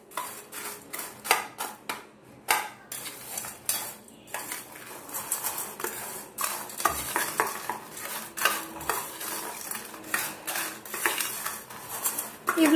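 Ready-to-eat noodles being mixed with hot water, a busy run of utensil clinks and scrapes against a bowl in quick irregular bursts, close and fairly loud.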